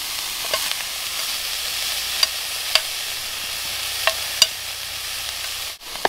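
Sauerkraut rösti fries on a Bushbox camping stove with a steady, close sizzle. A titanium spoon stirs it, giving occasional light scraping clicks against the pan.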